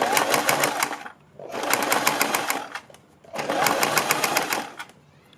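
A sewing machine stitches a kurti neckline in three loud, rapid bursts of rhythmic needle clatter, separated by short pauses.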